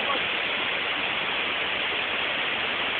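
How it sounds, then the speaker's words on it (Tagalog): Asik-Asik Falls roars as a loud, steady, close wash of falling water that never lets up, with no other sounds breaking through. "para talaga kami napapalibutan ng falls dito eh"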